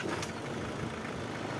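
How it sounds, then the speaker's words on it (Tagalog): Isuzu Trooper engine, one with low oil pressure, running at a steady idle after starting, a continuous close, even mechanical drone with a faint knock in it and no talk. "pa-start ko na itong makina."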